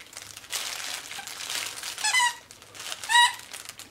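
Crinkle paper inside a plush dog toy being handled, heard as several close bursts of crackling with short squeaky chirps from the toy's squeakers mixed in.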